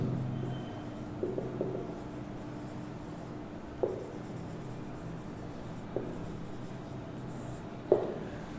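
Chalk taps and scrapes faintly on a board while a maths lesson is written up, a few sparse strokes and clicks over a low steady room hum, with no talking.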